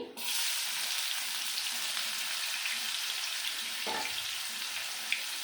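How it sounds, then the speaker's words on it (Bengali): Chopped onion hitting hot oil in a pan, a steady close sizzle that starts abruptly and holds evenly throughout, with no voices. "এবার দিয়ে দেব পেঁয়াজ কুচি"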